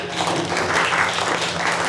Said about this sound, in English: Work from home people, clap it up one more time